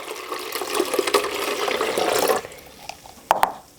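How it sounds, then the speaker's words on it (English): Filtered water pours steadily into a blender for a couple of seconds with a splashy, hissing rush, then stops, followed by a few light clinks and knocks. "I'm going to add about 2 cups of filtered water."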